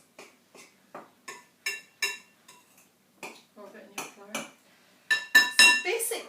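A metal utensil clinks and scrapes rhythmically against a bowl while cutting butter or margarine into flour, a series of short, sharp taps growing busier toward the end, close and fairly quiet.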